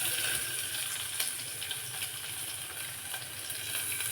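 Chopped onion frying in a pan gives off a steady, close sizzle with crackling pops throughout, no voices.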